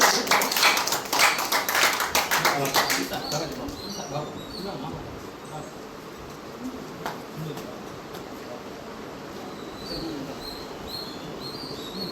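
An audience applauds at an honouring ceremony at a large event in Kilinochchi. Dense clapping swells for a few seconds and then tapers off, while a voice carries on over a quieter hall.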